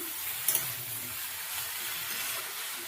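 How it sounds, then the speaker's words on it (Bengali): Drumstick flowers for a curry with potato and eggplant are stirred as they fry in a pan: a soft, steady sizzle throughout, with a brief clink of the utensil near the start and no talking. "এবার একটু নাড়াচাড়া করে নিচ্ছি"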